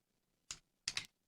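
Keys on a computer keyboard are struck to type a command, heard as one short clatter followed by a slightly longer burst of two or three quick keystrokes, close and crisp in a quiet room.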